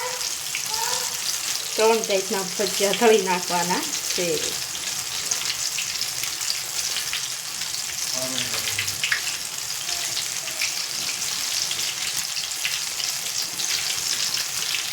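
Tomato, onion and potato bhajiya fritters deep-fry in hot oil with a steady, close sizzle that holds for the whole stretch. Someone speaks briefly early on.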